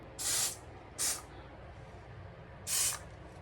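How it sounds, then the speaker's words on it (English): Three short hissing bursts of an aerosol whiskey-scented body spray, two close together and a third after a pause, close and fairly loud. "Let's put a different body spray on."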